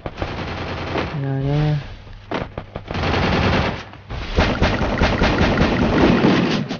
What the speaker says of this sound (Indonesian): Kita guna shotgun ni. Shotgun spam.